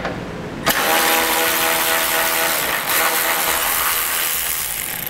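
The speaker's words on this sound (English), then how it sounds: "I'm gonna take out the 10 millimeter bolt that's on this mounting bracket" Ratchet working a 10 mm bolt off a mounting bracket on a 2008 vehicle during a transmission cooler install, a dense rapid clicking whir that starts suddenly and runs continuously, close and fairly loud.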